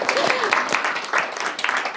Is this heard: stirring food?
no